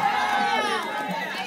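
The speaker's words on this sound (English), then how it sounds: "I want to hear the women yell out" A church congregation of women yells out together in a loud, sustained burst of overlapping high voices and shouts, crowding the room and tapering slightly toward the end.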